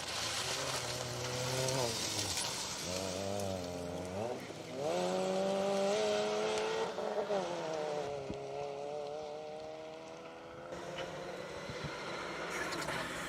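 BD Rally Sport Mark II course car on a Cambrian Rally stage in Conwy, its engine rising and falling in pitch through repeated revving and gear changes, loud and fairly close, with a quieter patch toward the end.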